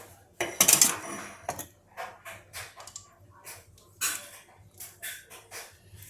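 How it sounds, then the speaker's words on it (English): A metal mini muffin tin is set down and handled in a home kitchen while making banana chocolate chip muffins, giving sharp clattering knocks and scattered lighter clinks and taps over several seconds. "now we're going to bring over our mini muffin tin"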